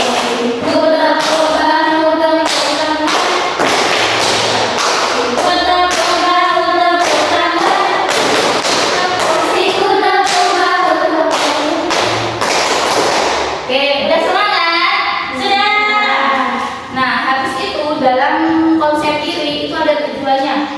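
A classroom group of students claps a rhythmic ice-breaker pattern together, sharp repeated hand strikes running steadily over chanting and singing voices, loud and close throughout.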